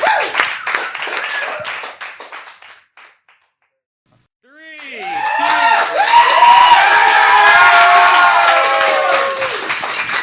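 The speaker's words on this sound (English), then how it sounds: "Y'all give a round of applause for my Woo! man, T.N.T." An audience at a live local showcase in a small venue claps and cheers loudly after a short pause, with whoops and shouts over the steady applause close by. A voice comes before it.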